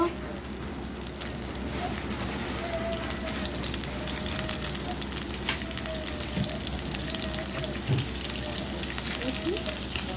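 Spices sizzle and crackle in hot oil while being stirred for a chicken curry, a continuous close frying hiss with occasional scrapes and faint background sounds.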